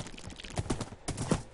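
Blocky Minecraft horse hooves clip-clop in a quick, steady series of close, moderately loud thuds, running through woods in the game.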